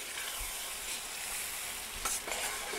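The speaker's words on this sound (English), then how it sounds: "we're going to add the tomatoes right into the garlic and the pepper juice that's in there" Tomatoes hit a pan of sizzling garlic and pepper juices, giving a steady close frying hiss with a few stirring scrapes and no voices.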